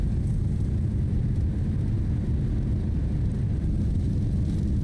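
Thrust reversers roar on the Zibo 737 mod in X-Plane 12 after a heavy landing, a loud, constant, low rumble that holds steady throughout.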